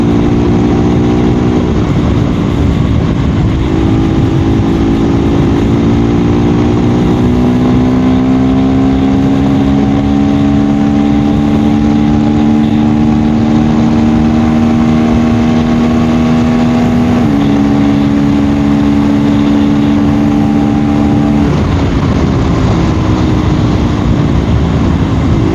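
A KTM Duke 390 motorcycle engine holds a steady, loud drone while riding on a freeway, with harmonic pitch shifts as the rider changes speed and gears, plus wind noise throughout and no talking.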